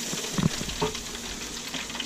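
Channel catfish pieces fry in a pan with a steady, close sizzle and crackle that runs throughout, with a few brief bumps and stirs over the hiss and no talking.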